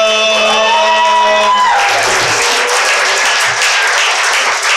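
An audience at a youth slam poetry event breaks into loud, sustained clapping with whoops and shouts for a poet, a dense steady roar of applause lasting several seconds.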